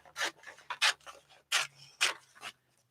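Scissors trimming an old paper calendar bought at a dollar store, five or six crisp rasping snips in uneven rhythm, close and fairly loud, with no talk.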